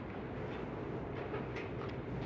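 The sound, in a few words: train approaching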